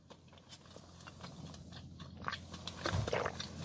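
Biting into and chewing a very crisp canelé pastry with a slightly burnt crust, close crunches and chewing that grow louder toward the end, with no talking.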